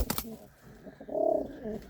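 Domestic pigeons kept in a home loft coo softly at close range in a low, rounded warble, after a brief knock at the start and over faint background noise.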